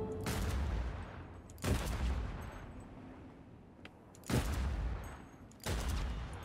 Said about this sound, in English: Did I actually shoot his tire out